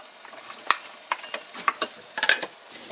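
Carrots and onions stir-fried in a pan for a vegetarian chili, giving scattered light sizzles and scraping stirs with a few sharper clicks, close and moderately quiet, with no talking.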